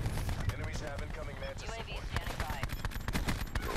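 Gunfire in the Call of Duty Black Ops 4 video game: a busy, moderately loud stretch of rapid shots and clattering game action throughout, mixed with background noise and voices.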